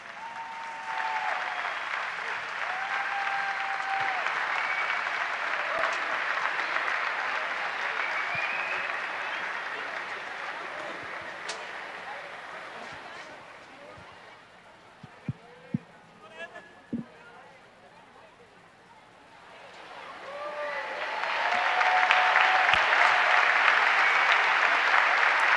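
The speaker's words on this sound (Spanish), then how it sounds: "Acompañamos con un fuerte aplauso." Crowd applause at an evangelical crusade event in Argentina, loud sustained clapping that fades in the middle, leaving scattered knocks and murmurs, then swells strongly again near the end.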